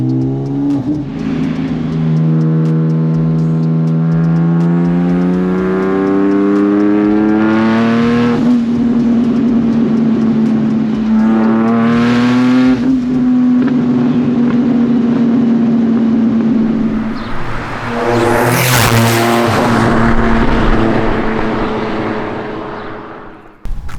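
A 1100bhp Nissan Navara pickup fitted with an R35 GT-R engine accelerates hard through several rising gear pulls with shifts between them, its engine roaring loud and close with no talk.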